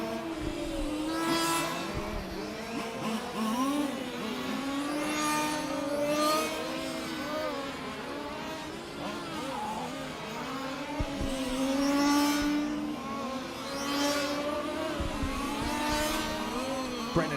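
1/5 large-scale model race cars at a championship race lap a track, their small engines buzzing and revving continuously with repeated passes and occasional tire squeals, steady and moderately loud.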